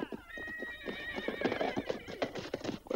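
A horse whinnies in a rising, wavering neigh while hooves clip-clop rapidly on hard ground, close and lively, with more hoof strikes trailing after the call in a Western setting.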